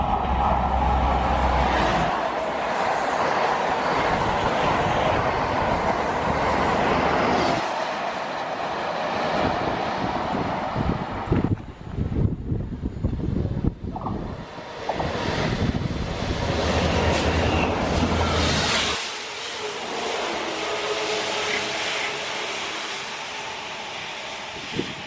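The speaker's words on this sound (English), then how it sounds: "we're here hopefully to see the Toton West Hampstead leaf and grease removing train" A Network Rail leaf and grease removing train runs through a station, a loud, continuous rumble of engine and wheels with clattering rail joints and rushing wind that eases toward the end.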